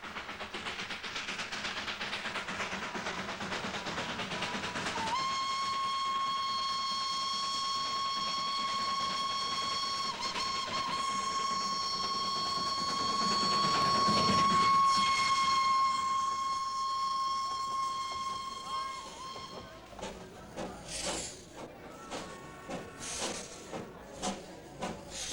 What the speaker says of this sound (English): the little hill train runs smack down the middle of the main street